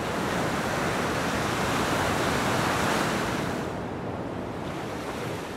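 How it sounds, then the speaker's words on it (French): Atlantic ocean surf on a wild, sunny surfing coast of south-west France, a steady loud wash of breaking waves that eases slightly toward the end, with no voices. "vagues déferlant avec régularité"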